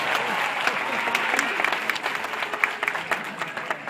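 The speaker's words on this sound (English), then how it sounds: "a big round of applause" Audience at a Taronga Zoo seal training show applauding steadily, a dense wash of clapping that holds at moderate loudness for several seconds.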